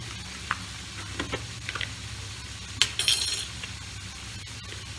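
Potato pieces fry in hot oil in a pan, a quiet, steady sizzle with occasional clinks of a utensil against metal and glass, including a brief louder scrape near the middle.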